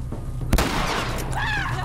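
Shotgun blast in the video game The Last of Us, one sharp loud report early on amid game ambience and faint background effects, with no speech over it.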